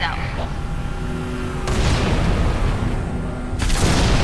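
Video game gunshots and booms, a loud sustained barrage with two heavy blasts that flare up sharply and ring on, over constant noisy rumble.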